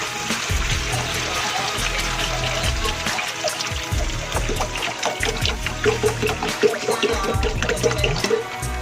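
Steady running water splashing and trickling into a cooking pan, continuous throughout with some clinks and bubbling at close range.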